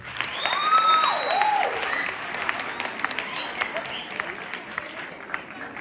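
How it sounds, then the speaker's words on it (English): A school assembly marking Africa Day breaks into hand clapping, loud at first and then thinning out into scattered claps with a whistle-like call over the top. "Can we please clap hands?"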